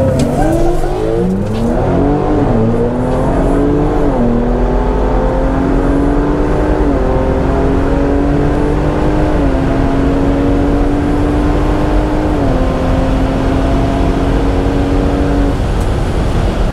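A Whipple-supercharged Ford Bronco Raptor launching down a quarter-mile drag strip, the engine roaring loudly and continuously, climbing in pitch through several distinct gear shifts before easing off.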